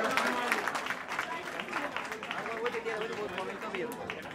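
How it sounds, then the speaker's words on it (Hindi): Clapping from an audience at an award event at the Gangasagar Mela, with sharp individual claps audible over a busy crowd and a voice talking through the applause. "एक जोरदार ताली होनी चाहिए आप सबों के लिए"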